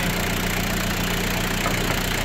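An engine at a construction site idles in a loud, steady, unbroken rumble with an even texture throughout and no voices.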